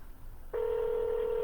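A telephone tone sounds while calling a client, starting abruptly after a brief quiet and holding as a steady, clean, unbroken pitch for about a second, with no talk.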